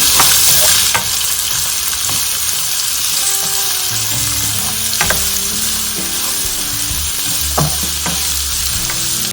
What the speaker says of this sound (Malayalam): 2 മീഡിയം സൈസ്ഡ് ഉള്ളിയാണ്, ചെറുതായിട്ട് കട്ട് ചെയ്തെടുത്തതാണ്. ഇനി ഇത് നന്നായിട്ട് വഴറ്റിയെടുക്കണം